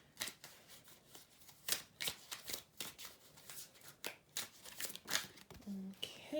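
Tarot cards are shuffled close up in soft repeated riffling bursts with brief pauses, quiet and crisp, as cards are drawn for a reading.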